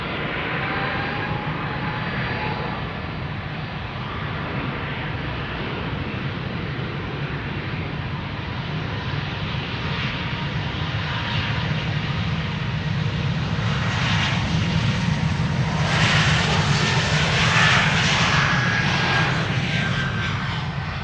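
Air Baltic jet airliner departing Amsterdam Schiphol for Tallinn, a steady, heavy engine roar that builds slowly and grows louder and hissier toward the end as it passes close by.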